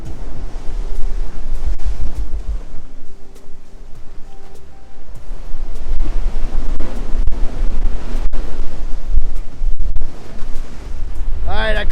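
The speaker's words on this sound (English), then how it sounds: "Every day these waves crash on these rocks and just change it a little bit." Ocean waves crash against rock formations along the beach at Blowing Rocks Preserve on Jupiter Island, Florida, a steady loud surf wash with rumbling swells, mixed with wind buffeting the microphone.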